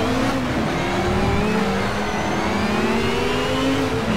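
A Caterham race car engine drones steadily in Shift 2, its pitch rising slowly under load with a constant loud, buzzing roar and tyre and road noise throughout.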